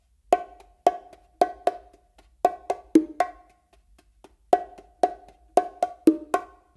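Bongos play a Brazilia pattern without ghost notes: crisp, dry hand strikes in short repeating bursts of quick hits separated by brief pauses, close and clear with no talking.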